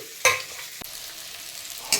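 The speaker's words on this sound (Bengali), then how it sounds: "সবজি ভাজা হয়েছে আর একটু লাল লাল দাগ পড়ুক" Vegetables frying in a pan give a low, steady sizzle, broken by two sharp stirring scrapes at the start and end and a brief clink between them.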